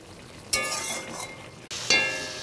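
Chicken being stirred and fried in a pan for a home-style curry, with sudden bursts of sizzling as the pieces are turned, scraping and light clinking of the utensil, and a brief break before a second loud sizzle.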